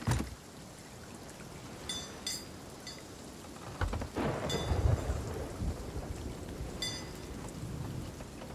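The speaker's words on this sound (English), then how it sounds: "It's the edge of the storm." Storm at sea in Sea of Thieves while sailing a solo sloop: steady rain hisses throughout, with low thunder rumbles swelling midway and a few sharper crackles, loud and close with no talk.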